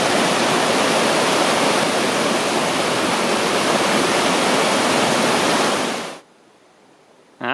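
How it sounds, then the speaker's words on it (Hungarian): Mountain stream in the Tatra mountains rushing loudly and steadily as a dense close roar of white water, cutting off abruptly near the end into quiet. "Közben meg felért hozzánk a patak."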